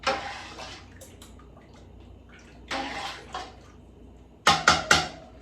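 Red lentil chili being stirred in a pot, a spoon scraping and knocking against the sides in a few short bursts, with a cluster of sharper clinks near the end; close and moderately loud, no talking.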